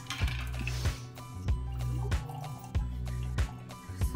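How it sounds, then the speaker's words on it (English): A Manhattan cocktail poured into a chilled wine glass, with a run of soft, regular drips and splashes of liquid, close and fairly quiet. "we're gonna go ahead and pour it into this chilled wine glass"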